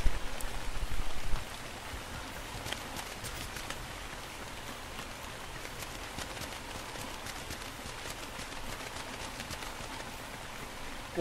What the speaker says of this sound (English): the rain makes it so hard to see.